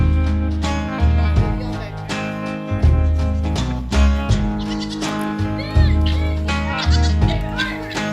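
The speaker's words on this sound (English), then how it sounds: "Oh, you got a baby goat." Goats on a family farm bleat loudly and repeatedly, several wavering calls overlapping close by across the whole stretch, with no clear talking.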